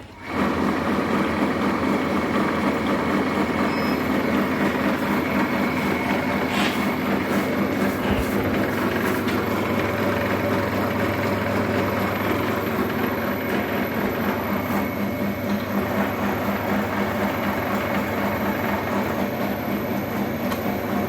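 A PAVIK automatic line feeder runs steadily and loudly for the whole stretch, a continuous rumbling mechanical drone with rhythmic clattering and no talk over it.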